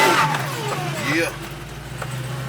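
A 1971 Chevelle convertible with a freshly swapped LT4 V8 revs briefly at about quarter throttle, a close engine rise and fall under loud steady rumble, with people talking over it.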